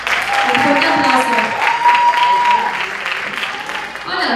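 Loud audience applause at the Miss Cuba US 2019 gala pageant, a dense burst of clapping that fades toward the end, with a voice briefly over it.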